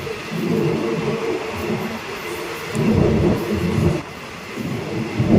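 A passenger train rumbles steadily along the rails between Pak Chong and Bandai Ma, Thailand, heard from inside a carriage, a heavy low roar that swells louder midway, with no talking.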